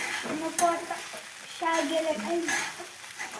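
Poha frying in a pan on a home stove is stirred with a spoon, giving soft sizzling and scraping with light clinks of metal against the pan in a few bursts, under faint speech.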